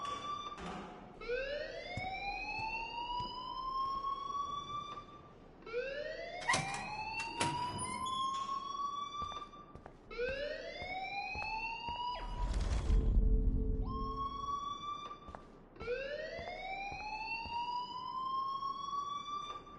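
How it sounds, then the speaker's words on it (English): A school alarm in the Life is Strange game wails in repeated rising sweeps, four cycles in a steady rhythm, loud and continuous with a brief low rumble partway through. "please turn off that alarm since that's your job"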